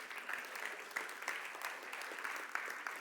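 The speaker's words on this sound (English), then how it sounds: "Would you please give him a round of applause?" Audience applause at a Scratch programming conference in Europe, a steady, fairly faint patter of clapping from a room of people with occasional sharper individual claps, no speech over it.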